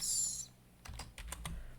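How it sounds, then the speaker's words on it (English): Quiet computer keyboard typing in short bursts, several soft distinct key clicks in quick succession, close up with no one speaking. "let me just type in"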